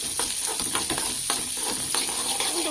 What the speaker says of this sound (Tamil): இப்போ வந்து வெங்காயம் போட்டோம்.